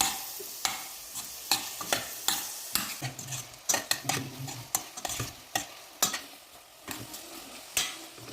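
Fried meat with onion and peppers is stirred in a hot pan, a continuous sizzle under frequent sharp scrapes and knocks of a utensil against the metal, close and fairly quiet, with no speech.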